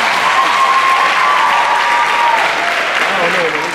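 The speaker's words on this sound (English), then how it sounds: "Now give yourself a round of applause for one of the many great achievements you accomplished today by graduating." Graduates at a high school graduation ceremony give a loud, sustained round of applause mixed with crowd cheering and a high whistle, a thick continuous roar of clapping throughout.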